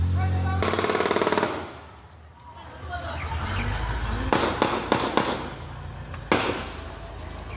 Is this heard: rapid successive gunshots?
yes